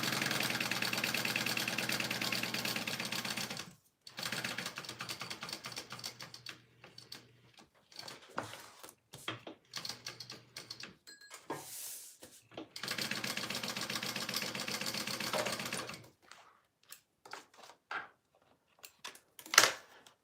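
A sewing machine stitches around a rectangle of Hawthorne cotton fabric, its steady mechanical whirring running in long bursts that stop and restart, broken by shorter intermittent runs and quiet gaps.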